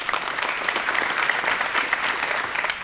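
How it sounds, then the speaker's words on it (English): A school-district audience at an evening ceremony for young student writers claps steadily, a dense, even wash of applause from many hands filling the hall throughout. "Let's have a round of applause."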